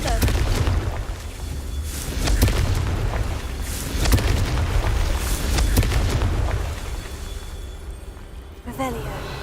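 Heavy booming blasts from the Confringo blasting spell in the Hogwarts Legacy video game. Dense explosions roll on almost continuously and fade near the end.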